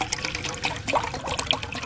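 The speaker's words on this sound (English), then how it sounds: "get some water in the cup." Water poured into a metal canteen cup, a short close gurgling trickle with small splashes and bright ringing droplets.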